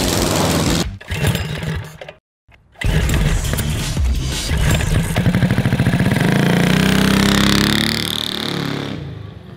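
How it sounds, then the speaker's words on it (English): An old military surplus four-cylinder 32 cubic inch engine mounted on a racing go kart runs steadily up close, with a brief cutout near the start before settling into a loud, continuous mid-pitched drone. "This is an old military surplus four-cylinder, 32 cubic inch."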